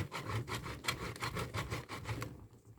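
Laundry bar soap rubbed against a hand grater in steady back-and-forth scraping strokes, close and fairly loud, roughly a dozen rasping passes in a regular rhythm before it fades out.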